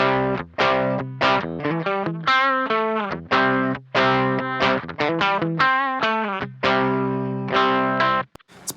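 Electric guitar through a Beetronics Nectar fuzz pedal with the honey control turned down plays a fairly clean tone, a busy riff of quick picked notes and short chords with slight effect coloring, close and unaccompanied.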